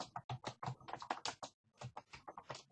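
Quick clicking keystrokes on a computer keyboard, close and quiet, tapping out in two bursts separated by a brief pause.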